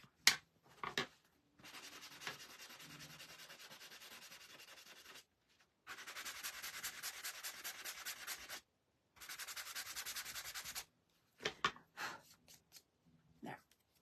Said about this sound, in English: I'm going to have to sand that back.